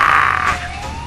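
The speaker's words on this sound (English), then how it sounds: "Kurt Angle's in the back of this ambulance here." Ambulance siren wailing during a wrestling event broadcast, loud and steady at first, then dropping a little in level as a continuous tone glides on through the short stretch, with no talk over it.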